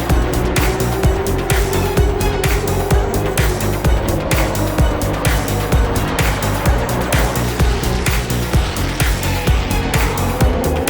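Race cars roar around Kingsport Speedway on a full-moon night, a dense, continuous engine drone with rhythmic pulses and passing surges, loud and close throughout.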